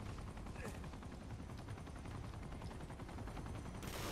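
Attack helicopter battle in the Uncharted game demo on PS4: dense, continuous roar of rotor noise mixed with rapid gunfire and explosions, loud and unbroken throughout.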